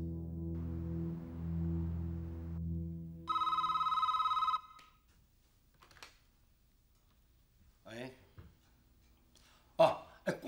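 An old-style telephone bell rings twice in long buzzing bursts, followed by a higher electronic tone, then a few voices speak quietly in a hushed room.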